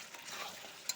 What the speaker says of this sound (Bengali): তো মাংসটা ভাজা দিচ্ছি